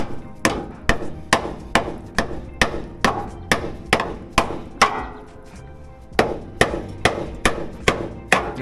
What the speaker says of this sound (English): I hammered it from the bottom here